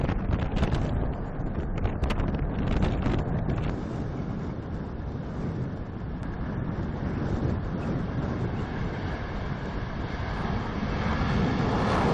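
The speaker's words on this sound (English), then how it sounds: "The plane behind us was built in 1985." A fixed-wing airplane built in 1985 gives off a constant loud, broad roar that fills the whole stretch without a break, with heavy wind noise rushing over the microphone.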